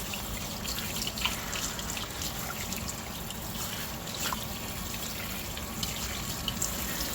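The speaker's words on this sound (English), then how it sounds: "And then rinse it off again." Running water rinses a classic South African three-quarter cast iron potjie pot after rust removal, a continuous close trickle and splash with small drips and knocks scattered through.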